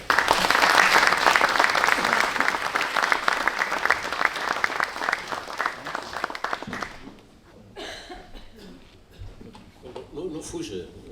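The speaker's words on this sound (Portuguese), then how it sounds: "Carlos Moraes, uma salva de palmas para ele." Loud applause from a theatre audience at a sports club centenary gala fills the hall, then fades after about seven seconds into scattered claps and a voice speaking.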